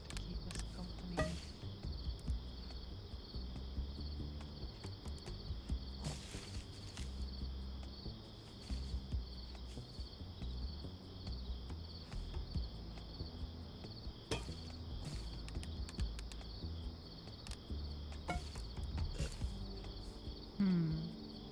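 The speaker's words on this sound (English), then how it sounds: "We have the cicadas in the background to keep us company." Steady high-pitched insect drone of cicadas runs through the whole stretch as a constant background layer, with quiet game sounds and soft knocks underneath and no talking.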